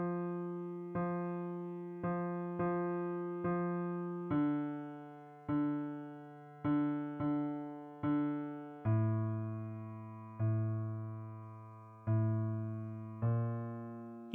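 Single piano notes and low chords for a song's left-hand rhythm are struck in a slow, steady pattern of separate attacks. Each decays clearly, with the bass dropping lower partway through, and no one speaks.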